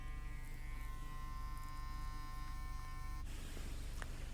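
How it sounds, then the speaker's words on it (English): A small electric trimmer on eyebrow hairs gives a steady close buzz with no pauses, changing tone slightly near the end as it moves over the hairs. "I'm just going to hit them with my trimmer"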